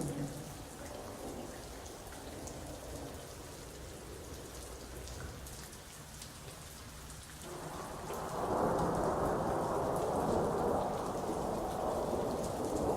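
Morning rain falls steadily in a thunderstorm, a constant wash of drops on surfaces with low rumbling, swelling louder and heavier partway through; no one speaks.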